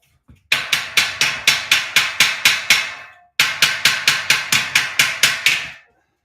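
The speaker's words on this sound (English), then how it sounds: "I've been doing all this hammering" Hammer blows while assembling a 5-shelf steel shelving unit: two fast, even runs of about ten sharp metallic strikes each, separated by a short pause, close and loud with no talk.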